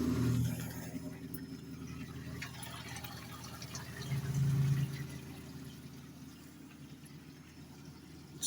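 Water draining out through the rear drain lever of a Maytag wringer washer, a steady trickling and pouring wash that swells briefly midway and continues close by without talk.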